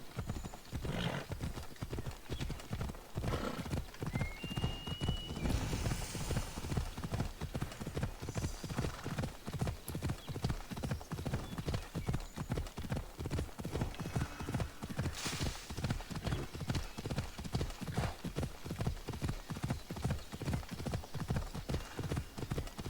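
Steady, rapid hoofbeats of a galloping horse in a video game pound on throughout, close and loud, with a brief whinny early on.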